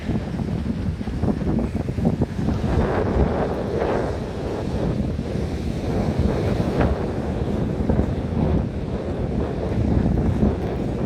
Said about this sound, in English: Sorry about the heavy breeze, noise, if it's noisy.